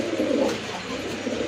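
Pigeons kept by a breeder, including a white-tailed pigeon, give soft, low cooing close by, with one brief coo standing out over a steady background murmur.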